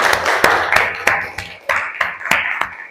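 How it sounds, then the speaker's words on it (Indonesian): Sparse clapping from a small audience applauding a classroom group's performance, about ten distinct sharp claps in an uneven rhythm, near and fairly loud rather than a full roar of applause. "Aplaus untuk penampilan kelompok 1"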